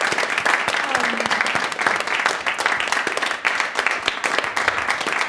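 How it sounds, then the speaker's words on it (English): Applause from the audience at the close of a talk and Q&A session, a steady dense wash of clapping that fills the whole stretch at close range. "Round of applause."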